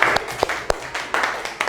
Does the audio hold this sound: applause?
yes